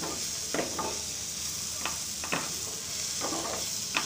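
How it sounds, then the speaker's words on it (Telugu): Cabbage fry with coriander stirred in a pan, a close sizzle punctuated by repeated scraping strokes of the spatula at an uneven rhythm, no voices. "కొత్తిమీర, వేసి బాగా కలపాలి."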